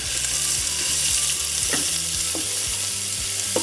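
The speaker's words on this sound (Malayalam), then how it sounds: "ഇതിലേക്ക് നമ്മൾ കട്ട് ചെയ്ത് വെച്ചിരിക്കുന്ന ഓനിയൻ ചേർത്ത് കൊടുക്കാം." Sliced onions sizzle in hot oil with fennel seeds, a steady close frying hiss running the whole time, with a few soft stirring knocks underneath and no voices.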